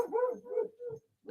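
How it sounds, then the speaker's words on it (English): Dogs bark and whimper in a few short, moderately quiet bursts, each followed by a brief pause, with no talking. "that's my dogs"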